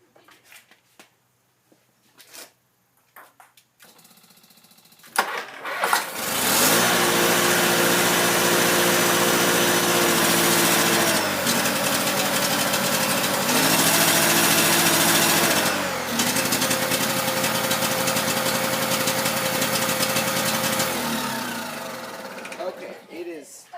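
A Honda tractor engine with a fault cranks and catches after a few scattered clicks, then runs loud and rough for many seconds, its pitch wavering as it misfires before it dies away near the end.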